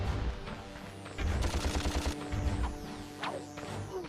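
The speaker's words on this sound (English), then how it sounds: "Let's just get the blaster out and let's shoot him." Blaster fire in the Ratchet and Clank game during a boss fight, bursts of rapid synthetic shots with sweeping whooshes and crashes layered over a busy game soundtrack.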